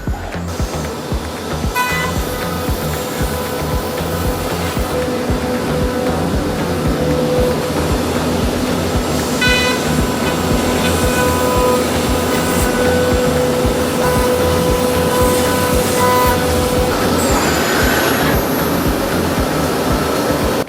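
A $300,000 CNC router with a vacuum hold-down system runs in a woodshop as a steady, loud machine drone with a whining tone, and nobody talks.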